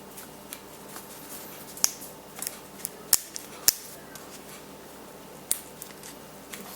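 Protective film tabs being peeled off a Samsung Gear S2 Classic watch, producing faint crinkling and a few sharp snapping ticks at irregular intervals against a quiet background.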